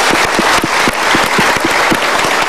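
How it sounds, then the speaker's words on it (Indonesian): A studio audience breaks into dense, sustained applause, many hands clapping loudly and evenly for the whole few seconds. "Sekali lagi kita berikan tepuk tangan."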